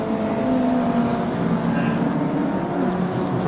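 Race cars, including a Lotus, running side by side on a circuit at a regional motorsport festival, their engines droning steadily with a wavering pitch, mixed with commentary talk throughout.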